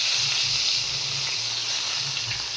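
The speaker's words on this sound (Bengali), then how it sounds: "গরম হয়ে গেছে, দিয়ে দিচ্ছি পেঁয়াজ বাটা" Onion paste hitting hot oil that has just fried fish gives off a steady, close sizzling hiss that holds at an even level throughout, with no voices.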